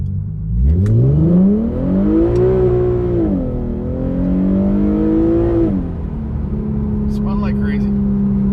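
An Infiniti Q50 accelerates hard in a 0-60 run with its tires spinning, the engine note climbing steeply through gears with a brief dip at a shift, loud and close from inside the car.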